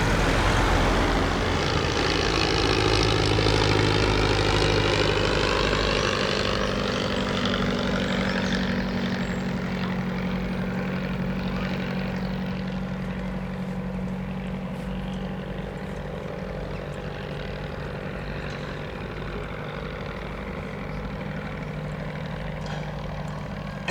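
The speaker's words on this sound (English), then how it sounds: "Wren's going for another hop down the runway." A Wren vintage light aircraft's small propeller engine drones at an evening air show, its pitch sweeping as it makes a hop down the runway and then settling into a steadier hum that slowly fades over about twenty seconds.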